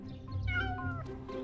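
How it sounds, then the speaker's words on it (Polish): An animated cartoon cat from the Polish-dubbed Bing series lets out a short, drawn-out meow with a slightly whiny, wavering tone, heard alone and fairly quiet. "Ten kotek cię nie zna."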